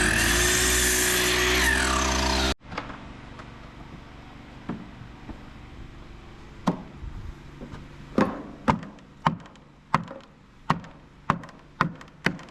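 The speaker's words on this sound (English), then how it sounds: "Just tap it in. Give it a little tappy." A hammer taps wood during a homestead cabin build, first a few light scattered knocks, then a run of sharper, evenly spaced blows close by, after a loud machine-like roar cuts off abruptly.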